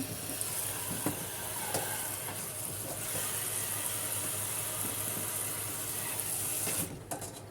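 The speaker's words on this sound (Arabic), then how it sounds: "طبعا الميه ضعيفه، مشغله الموتور اهو" Weak tap water, boosted by a motor pump, runs in a steady hiss while dishes are washed in a home kitchen, with faint clinks over the constant flow and no talk.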